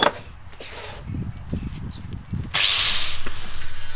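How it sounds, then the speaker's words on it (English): An angle grinder fitted with a flat 36-grit sanding disc grinds steel parts for homemade leaf spring shackles. Faint knocks come first, then a loud, harsh grinding hiss starts midway and runs steadily to the end. "I took the angle grinder with a flat sanding disc or grinding disc with 36 grit sandpaper"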